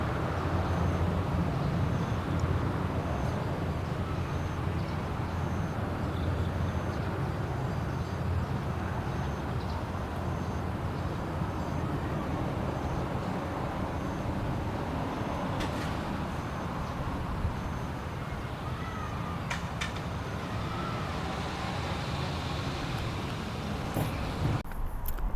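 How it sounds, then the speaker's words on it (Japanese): Quiet outdoor ambience with a low, continuous rumble of passing cars and a few faint, brief bird chirps near the end. "周りに鳥が鳴いていたり車が通っていったりするので、"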